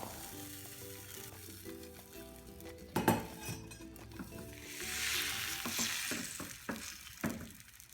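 Beaten egg sizzling as it hits a frying green onion pancake in a hot pan, a steady frying hiss that swells midway, with a few sharp clinks and scrapes of a utensil on the pan.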